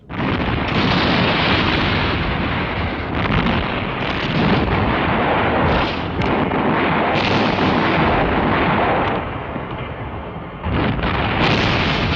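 A naval bombardment of Narvik in wartime, with German destroyers under fire: loud, continuous heavy gunfire and explosions rumble and boom without letup, briefly easing toward the end.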